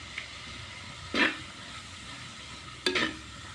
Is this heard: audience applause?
no